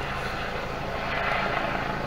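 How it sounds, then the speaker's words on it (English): A life flight medical helicopter passes overhead with a steady, broad rotor and engine drone that swells slightly midway, heard alone at moderate distance. "life flight's coming in just about time we get started here"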